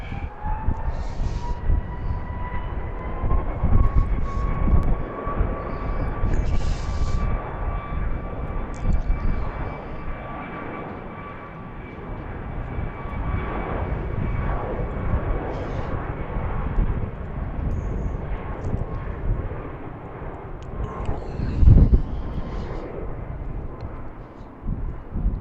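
United airliner passing at BWI airport around sunset, a steady jet engine roar with a sustained tonal whine that holds level throughout, moderately loud and continuous with low rumble underneath.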